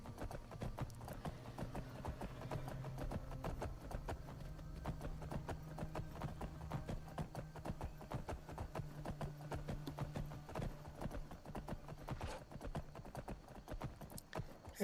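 Rapid, steady clip-clop of horse hooves in the video game Skyrim continues throughout at a moderate distance, an even galloping rhythm over a low background hum.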